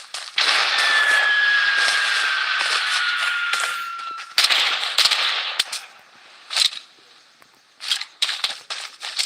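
Rapid bursts of video-game gunfire crackle through a battle royale firefight, a dense sustained volley for about four seconds followed by scattered shorter shots and single reports with gaps between.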